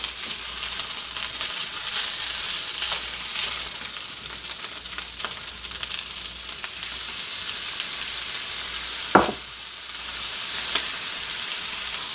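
Shrimp sizzles steadily in a pan with butter and soy sauce for shrimp fried rice, a constant close frying hiss broken by one sharp scrape or clink of stirring near the end.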